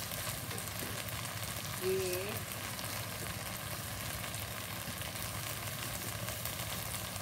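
Garlic sizzles steadily in a hot pan with a light stirring scrape, a continuous close frying hiss while a voice speaks briefly over it.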